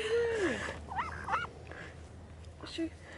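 Ducks honk a few times at a picnic spot in a park, short nasal calls close by, scattered among quiet background sounds and people talking.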